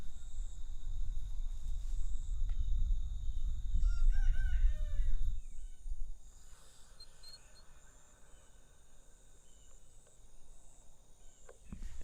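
A rooster crows among a flock of about sixty backyard chickens, its call rising clearly over a dense background of clucking and low rumbling noise.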